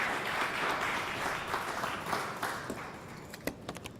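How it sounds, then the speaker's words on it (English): A round of applause at a stakeholder forum on waste management, steady massed clapping from the audience that thins out toward the end into a few scattered, sharper claps. "Can we give him another round of applause?"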